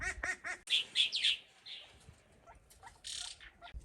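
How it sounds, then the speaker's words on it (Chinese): Sharp, repeated alarm calls from a sentinel bird perched high in trees among sparrows, a quick series of shrill chirps followed by fainter rustling and a brief burst of noise, with no speech. "遇到危险的信号，它就会发出刚才那种报警声"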